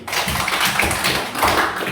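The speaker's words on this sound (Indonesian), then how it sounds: "berikan tepuk tangan dulu buat Resti" Audience clapping for a participant during a classroom or meeting session, a brief burst of many hands applauding together, moderately close and steady.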